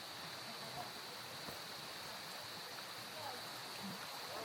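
A small, clean river stream flowing outdoors, a soft, steady rushing wash that continues evenly throughout, faint and distant-sounding with no distinct splashes.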